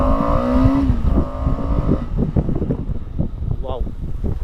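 A KTM Adventure 250 motorcycle pulls away from standstill, its engine rising in pitch over the first two seconds before heavy wind buffeting takes over, with a voice briefly heard.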